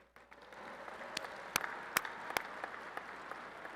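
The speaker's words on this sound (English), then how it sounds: "Let's give them a round of applause." Faint, distant applause from a large audience at a Texas Tech University ring ceremony, a soft, steady patter with a few sharper, closer claps standing out and no talking.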